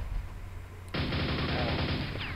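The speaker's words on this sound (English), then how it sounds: "Good old chain gun does the trick." A chain gun in the video game Quake opens up about a second in, a loud, steady, rapid stream of shots that keeps going to the end after a quieter low rumble.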